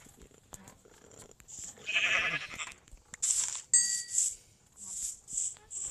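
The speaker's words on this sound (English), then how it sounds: "we need to kill some sheep for a bed" Sheep bleat in a mobile Minecraft rip-off game, several short bright calls in the second half, loud and close over a quiet background.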